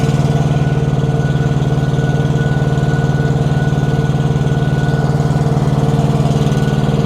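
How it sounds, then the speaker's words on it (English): A truck's tri-pack auxiliary power unit runs at a steady idle, a loud, even mechanical drone with constant low throb and no talking. "Didn't know my tri-pack was on."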